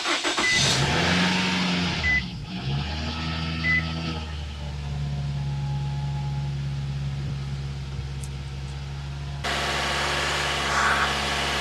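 A 2008–2012 Nissan Rogue with an oil-fouled spark plug tube cranks and fires up, then settles into a steady, fairly quiet idle at raised revs with a low hum, alone without talking.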